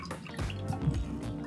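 Water spills and drips from the top of a LEGO hand pump, soft close trickling and splashing with small gurgles, quiet and brief.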